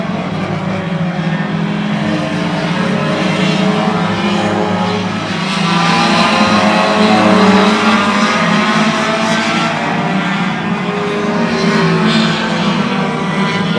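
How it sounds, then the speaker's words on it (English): Super Series race cars roar around Oyster Bed Speedway in a steady, loud wall of engine noise, with revving and cars passing throughout. "Once Watson was finally able to steer his car around Leclerc, he would never look back, securing the Super Series race win."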